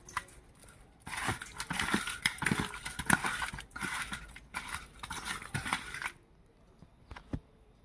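Washed rohu fish pieces being mixed by hand with salt and turmeric, giving soft wet squelches and clicking taps in irregular bursts, fairly quiet and close.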